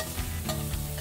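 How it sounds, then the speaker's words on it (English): Butter melting in a hot pan alongside sous vide cooked food and herbs, a dense, steady sizzle and crackle close up, short and unbroken, with no talking. "so I'm just going to go in with a bit of butter."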